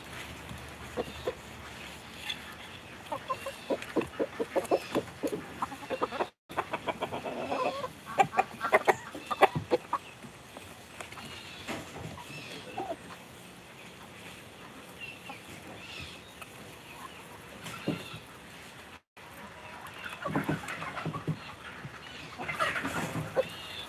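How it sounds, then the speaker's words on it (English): Chickens cluck intermittently around a backyard beehive inspection, scattered calls over a constant outdoor hum and rustling, moderately close, with no talking. "See if I can get the chickens in the frame for y'all."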